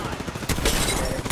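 Gunfire in a video game: a burst of sharp shots cracks in about halfway through, followed by a dense run of rapid, loud reports.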